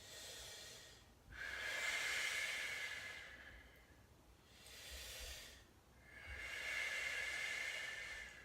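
Deep, slow breathing during a hip and hamstring stretch: three long, loud breathy inhales and exhales, each lasting a couple of seconds, close to the listener, with no talking.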